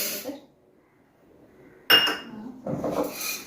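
A bowl of lentils (dal) tipped into a pressure cooker in a home kitchen: after a quiet pause comes a sharp metallic clink, then a rattling, grainy pour against the metal pot, with no talking.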